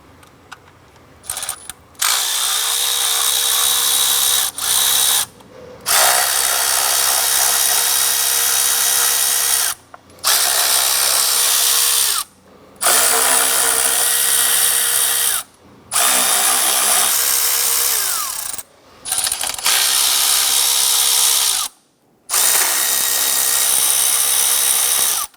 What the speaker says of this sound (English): Using a 5/16 socket and extension, we're going to go ahead and loosen the 8 bolts on our lower intake.